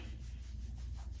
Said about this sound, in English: So I'm just going in with that on my scalp, moisturizing it, rubbing it all in there.